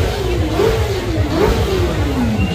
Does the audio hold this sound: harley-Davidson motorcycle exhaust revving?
yes